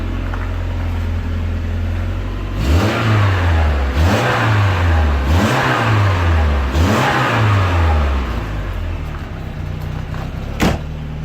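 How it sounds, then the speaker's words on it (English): A Peugeot 205 GTI 1.9 engine revs up and back down four times in steady succession, loud and close over a constant idle, with the exhaust note rising and falling in each blip. "I'll give it a rev because you get no smoke."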